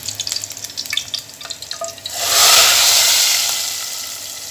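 Oil-fried tempering with chopped green chilli is poured into moong dal, bursting into a loud, sustained sizzle after a few light clinks and drips, then slowly fading.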